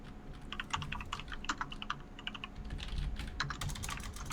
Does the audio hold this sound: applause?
no